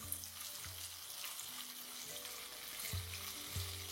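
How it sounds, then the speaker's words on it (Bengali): Fish pieces shallow-frying in oil in a kadai for a restaurant-style Bengali kadai fish, giving a steady soft sizzle with a few low thumps and clatters from the pan, no voices. "এপাশে মাছটা যতক্ষণে ভাজা হচ্ছে"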